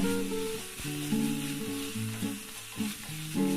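Chopped tomatoes sautéing in a pan, giving a short, continuous sizzle with stirring under background music.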